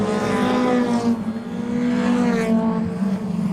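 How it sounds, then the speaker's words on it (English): Race cars at an oval track club meeting roar steadily past, a loud continuous engine drone with rising and falling pitch as cars go by, commentary faintly under it. "That's a 7 car, that's Richard Miller, that's coming through, and then Arnold Miller as well"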